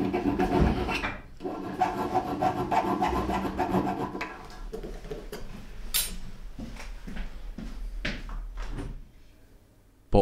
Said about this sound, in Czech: Po očištění ostrých hran si vypiluji osazení pro rukojeť nožíku Kogatana.